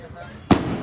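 A single sharp firework burst booms close and loud during a festival in honor of Santiago Apóstol in Sahuayo, following a quieter stretch of crowd ambience.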